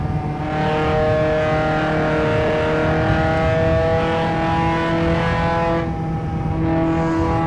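A car in Shutoko Revival Project, a driving game set on Tokyo's elevated expressway, is held at top speed in its highest gear, with a loud, sustained, steady engine whine that dips briefly near the end.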